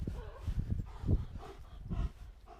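Security dog barking during a handler search, a run of rough low barks and growls close by amid scuffling and movement.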